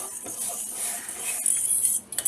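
Full-fat milk stirred with a metal spoon in a pan on the stove, a steady soft scraping and clinking close by, with no talk.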